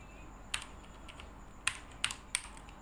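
Faint key clicks on a computer keyboard while Django code is typed: four sparse, crisp taps scattered over a few seconds, with no talking.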